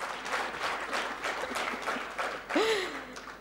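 An audience at a leadership talk in the creative industry claps in a moderate, fairly quiet wave of applause, and a short rising voice-like sound cuts through near the end.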